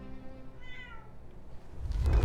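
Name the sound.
cat meowing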